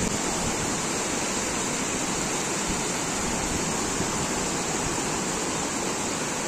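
A village river swollen by torrential monsoon rain rushes past in a loud, unbroken roar of churning water, close and constant from start to finish with no voices.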